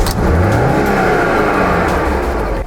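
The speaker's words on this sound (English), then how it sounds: "Turn the car on." An Alfa Romeo GT's engine runs loud and close, a steady mid-pitched drone with a slight rise in revs over a few seconds.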